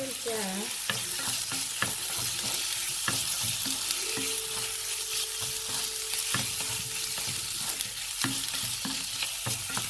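Calf liver stir-frying in a hot pan, a constant close sizzle broken by repeated sharp spatula scrapes and taps, with no one speaking.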